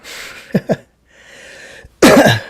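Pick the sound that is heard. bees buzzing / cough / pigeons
cough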